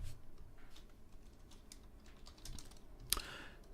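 Keystrokes on a computer keyboard while entering a math expression, soft scattered clicks followed by one sharper Enter key press near the end, faint and close with no speech.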